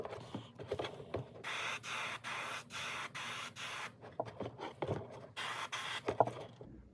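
Gold glitter paint is sprayed onto a baitfish fishing lure in short airbrush-style bursts. Each hiss starts and stops abruptly in an uneven rhythm, close by and moderately loud, with small clicks between bursts.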